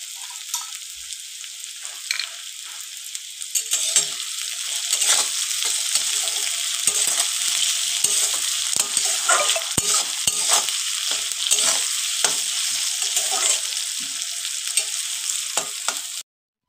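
Onions salted in a pan fry with a steady bright sizzle, broken by frequent scraping and stirring clatter, close and alone without any voices.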